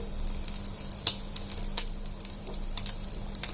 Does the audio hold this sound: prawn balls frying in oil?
yes